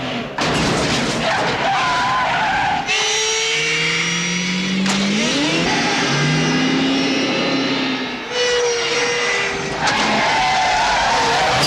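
Engines roar and tires skid through a staged car chase in a Clint Eastwood cop-thriller send-up, with loud sustained revving, rising whines, squeals and sharp bangs that fill the whole stretch without any talk.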